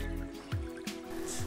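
A small river trickles and drips around a stone where a fish trap is wedged, with soft, close watery plinks and gurgles over a continuous low flow.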